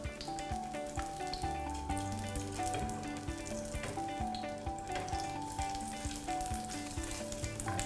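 Curry paste and pork belly stir-fry in a wok over gentle heat, with a steady close sizzle and occasional stirring beneath a soft, continuous musical background.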